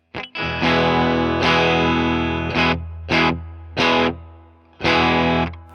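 Heavily distorted electric guitar chords played through an Xvive P58 preamp in active mode ring out in several bursts: a long sustained strum, then shorter stabs separated by brief gaps.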